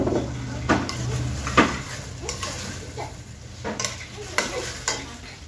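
Chicken with soy sauce is stirred in a cooking pot, a soft sizzle under repeated scraping and clinking strokes of a utensil against the pot, close and uneven, with a low hum beneath.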